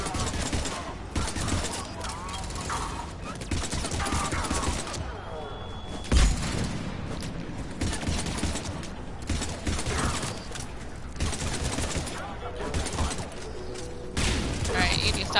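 Gunfire in the video game Mass Effect 3, dense rattling bursts and blasts running almost continuously with a sharp impact midway, under someone talking.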